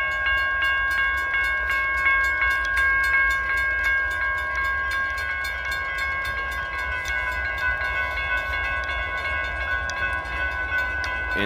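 A Norfolk Southern train stands at the Emmons Boulevard level crossing on the Conrail Detroit Shoreline in Wyandotte, Michigan. A mechanical crossing bell rings in a steady, even rhythm over a low, continuous rumble throughout.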